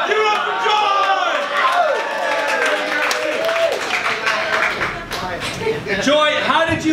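An improv comedy show audience applauds and cheers for a participant named Joy, with sustained clapping and whoops filling the room, a brief dip, then a fresh swell of crowd noise at the end.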